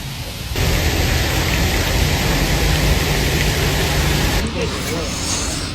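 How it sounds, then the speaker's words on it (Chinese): A heavy hailstorm pelts down during a solo bicycle trip, a loud, dense, steady roar of impacts that holds for several seconds before easing slightly, with wind-like hiss throughout. "哇，下好大的冰雹！"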